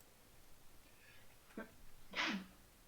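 A single sneeze, short and fairly close, preceded by a faint breathy intake in an otherwise quiet room.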